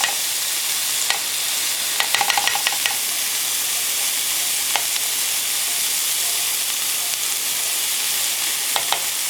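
Butter sizzling in a hot pan while deer steaks are deglazed, a steady broad frying hiss with brief brighter crackles and spits scattered over it, close and continuous with no talk.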